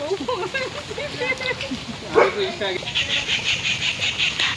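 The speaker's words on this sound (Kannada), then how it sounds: "ಅದು ಬಗಳೋದು ಮಾತ್ರ ಕಚ್ಲಿಕ್ಕೆ ಬರಲ್ಲ ಅಂತ" A dog barks a few times from nearby, its yelps mixed with people chatting and steady background noise.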